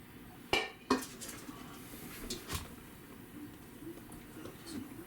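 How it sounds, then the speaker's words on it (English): A spatula knocks and scrapes against a mixing bowl while German chocolate cake batter is folded, with two sharp clanks near the start, softer scrapes after, and quiet, close room sound. "If I used the right size of a spatula to scrape it with."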